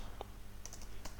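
A few scattered computer keyboard keystrokes, faint and close, with short clicking taps spread across a quiet moment while a git remote command is typed.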